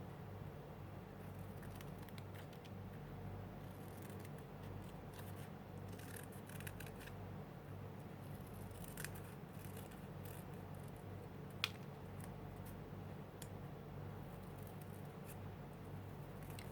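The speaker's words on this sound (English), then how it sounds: "First, you just cut the general shape of the bird." Scissors snip through paper while cutting out a bird shape for a paper-scrap quilt embellishment, producing soft, irregular close-up cuts and rustles against a quiet room hum.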